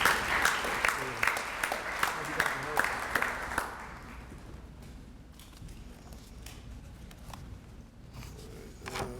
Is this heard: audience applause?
yes